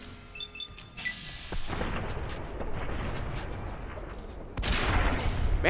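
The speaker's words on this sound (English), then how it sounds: "he took two shotgun rounds to the face, point-blank range" Point-blank shotgun blasts in Fallout New Vegas land as loud booming reports with a rumbling tail, against game ambience and some brief talk.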